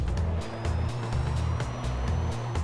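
A Mitsubishi Eclipse in the racing game Need For Speed World, its engine droning steadily loud and low as the car drives forward and then in reverse, with a continuous rumbling hum that shifts slightly in pitch.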